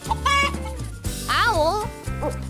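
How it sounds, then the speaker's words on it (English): A chicken clucks in a few short, wavering bursts, close and clear, with a brief spoken word among the calls. "Chicken."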